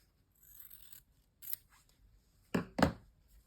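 Scissors snip through excess quilting fabric at a seam, a few crisp, close cuts in quick succession, the last two louder, with near silence between them.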